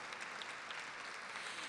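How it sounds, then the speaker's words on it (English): Audience applause at a nurses' salute event, a steady wash of clapping from a crowd, fairly faint and distant, with no talking over it. "Let's give them all a round of applause"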